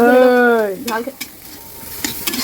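Chili and tomato fry in hot oil in a pan. A brief tonal note opens the sound, then come scattered stirring clacks and a light sizzle, close by and without speech.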